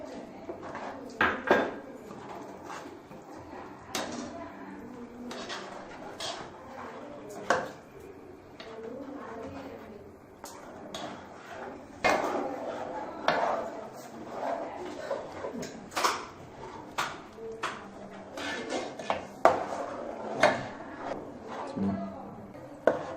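Kesari being stirred with sugar and khoa in a cooking pan, scraping and clinking of a spoon against metal in irregular bursts, close and moderately loud, with a person talking throughout.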